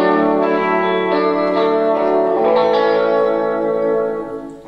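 An electric guitar played with its pickups wired out of phase, giving a thin, nasal sustained tone with little low end that rings steadily, then fades at the close.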